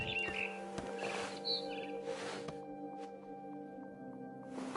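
A barn swallow chirps in What Remains of Edith Finch, giving faint, scattered tweets over a quiet, steady ambient hum.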